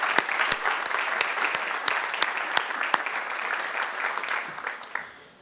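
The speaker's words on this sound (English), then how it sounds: "Let's give all of those folks a round of applause." An audience at a high school athletic hall of fame induction ceremony claps steadily in a hall, with sharper individual claps standing out before the applause fades away at the end.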